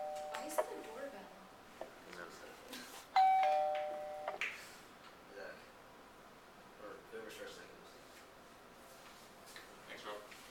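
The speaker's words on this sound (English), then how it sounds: "Why is it a doorbell?" A doorbell chimes once, clear and moderately loud, during a debate in a quiet room with faint rustling and distant voices.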